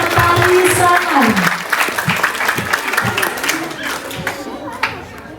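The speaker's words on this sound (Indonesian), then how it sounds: "tepuk tangan yang meriah sekali lagi untuk tampilan tari sangan" Hearty applause from an audience after a dance performance at a school farewell ceremony, loud dense clapping at first that thins and fades, with voices mixed in.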